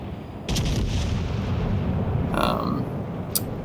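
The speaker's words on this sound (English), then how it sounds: "So we will keep firing HEs at this guy." Warship guns firing HE shells in World of Warships Legends, a heavy booming salvo followed by a sustained rumbling roar, with a few sharper cracks on top.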